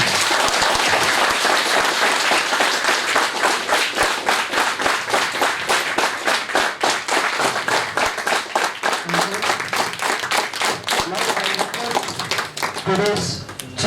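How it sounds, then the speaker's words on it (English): An audience applauds at length after a 30-hour non-stop drug chemistry lecture, steady, loud, many-handed clapping that thins into more distinct individual claps near the end. "So now I request you all to give him a big applause."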